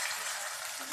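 Chicken pieces fry in oil with ginger-garlic paste, giving a steady, close, crackling sizzle that holds evenly for about a second with no voices.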